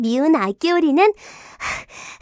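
In a Korean children's audio story of the ugly duckling, a narrator speaks a short line, then the duckling's rough, heavy breathing follows as a few breathy gasps, close and clear.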